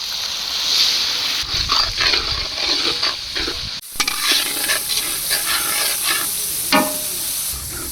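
Onion with a paste of turmeric, chili, ginger, garlic and cumin frying in a pan, a steady loud sizzle with scraping stirring strokes and a brief cut partway through.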